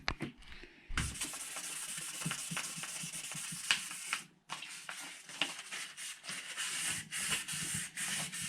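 Aluminium fork tube of a Honda CB 500 S (PC32) being wet-sanded by hand with fine 2500-grit paper during restoration: steady close rasping strokes, continuous with a brief pause midway, no talk.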